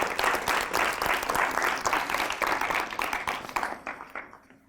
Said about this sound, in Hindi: संक्षेप बरनवाल अक्षत का जोरदार तालियों से स्वागत।